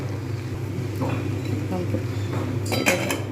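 A metal lid clinks onto a cooking pot of egg biryani, a short cluster of bright clanks near the end after quiet kitchen noise, with a voice talking nearby.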